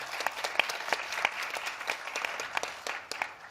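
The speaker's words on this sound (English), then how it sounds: "Big round of applause." An audience at a conference on digital connectivity applauds for a few seconds, a fairly quiet, irregular patter of many hands clapping that swells and fades in small bursts.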